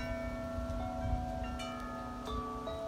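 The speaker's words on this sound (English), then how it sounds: "I love my wind chimes when they get going." Wind chimes ring in a breeze: sustained metallic tones overlap and linger, with a few fresh strikes scattered over steady low wind rumble.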